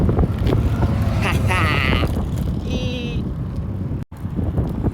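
Strong wind roars and buffets against the microphone continuously on a road trip, with faint voices breaking through briefly amid the rushing noise.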